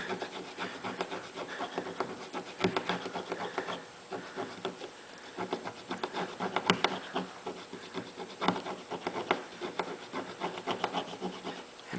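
A brush and a fingernail scrub Amodex stain remover into a Sharpie ink stain on fabric, giving a steady close, quiet scratchy rubbing with rapid rasping strokes for the whole stretch.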